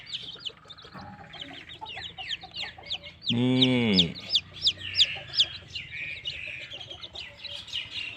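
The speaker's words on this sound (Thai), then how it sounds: "ไก่แจ้เรา" Several chickens cluck and cheep close by, with rapid high peeps throughout and a louder harmonic squawk in the middle; a voice speaks briefly.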